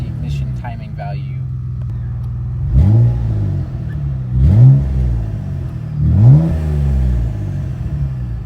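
A Mitsubishi VR4 engine running on E85 fuel idles loudly and revs sharply three times in even succession, each rev rising quickly and then settling back to idle, with faint talk near the start.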